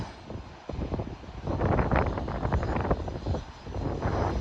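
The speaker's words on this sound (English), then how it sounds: "this is a Cessna jet, probably a corporate jet, and he's flying to Morristown, New Jersey" A Cessna corporate jet near Burlington International Airport in Vermont, heard as a broad rising roar over wind noise that swells from faint to steady and fairly loud.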